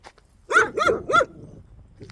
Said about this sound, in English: these dogs are annoying the hell out of me right now because they won't shut up